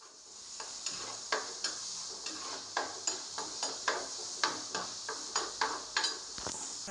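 Tomatoes sauté in a pan for an ayala (mackerel) fish curry, with a steady sizzle under a run of sharp, regular stirring scrapes about twice a second, close and clear, with no voices.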